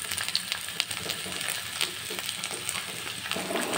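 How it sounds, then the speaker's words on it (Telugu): Chopped tomatoes and onions sizzling in a little oil in a pan for an egg masala curry, a steady soft frying crackle with faint scattered pops and stirring scrapes, moderately close. "కొద్దిగా ఆయిల్ అయితే వేసేసి ఇప్పుడు మనం చిన్నగా కట్ చేసి పెట్టుకున్న టమాటో, ఆనియన్స్"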